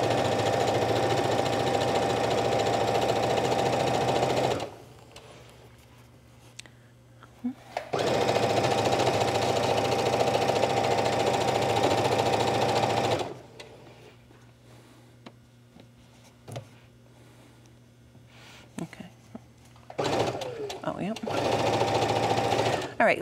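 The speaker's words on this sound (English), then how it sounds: "and I'm just gonna sew all the way down." A domestic sewing machine sews a seam on stretch yoga pants in several long bursts, each a close, steady, rapid whir that stops abruptly. Someone talks in the quieter gaps between runs.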